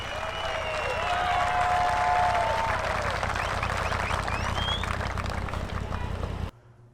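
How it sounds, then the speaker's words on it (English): A crowd at the Ultimate Callout Challenge, a diesel truck competition, bursts into dense, sustained applause and cheering for several seconds before it cuts off abruptly. "Let's give him a big round of applause."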